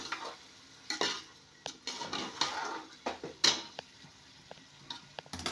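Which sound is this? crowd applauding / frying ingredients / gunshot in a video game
frying ingredients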